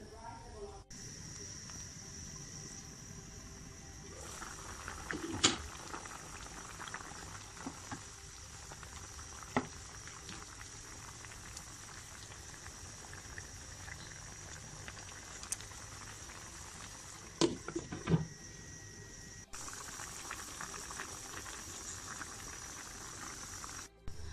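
Yogurt and black pepper quail curry simmers covered over a medium flame, giving a steady soft bubbling hiss with scattered pops and a few clicks, heard close and alone.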